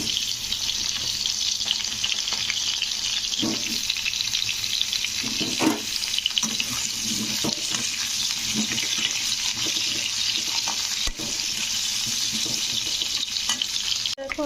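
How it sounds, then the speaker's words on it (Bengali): Potatoes frying in leftover oil from frying rohu fish, a loud continuous sizzle with intermittent stirring scrapes and clinks of a utensil against the pan, close up and alone. "তো প্রথমে দিয়ে দেব আলু। তো আলুগুলো একটু ভেজে নিতে হবে।"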